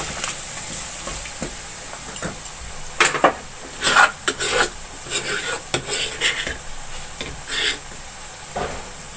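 Ground onion and boiled mutton being stirred in a cooking pot, irregular scraping and rasping strokes of a spoon against the metal with occasional louder knocks, close up and without talking.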